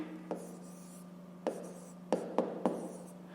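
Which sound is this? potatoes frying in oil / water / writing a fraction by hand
writing a fraction by hand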